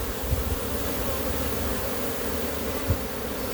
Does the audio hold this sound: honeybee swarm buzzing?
yes